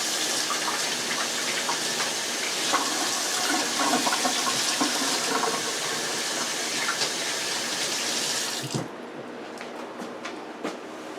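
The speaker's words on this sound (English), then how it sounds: "Let me wash my hands." Running tap water pours steadily while hands are washed in a home kitchen, loud and close, before the flow cuts off abruptly near the end, leaving faint trickles.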